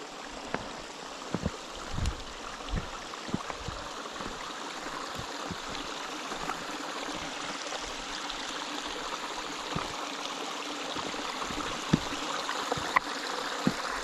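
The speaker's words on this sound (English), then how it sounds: "the water gets faster and faster and faster and it goes over several step downs over the boulders" Gunnerside Gill stream rushing fast over boulders and several step-downs after heavy rain, a steady close wash of churning water with small splashes and trickles, no voices.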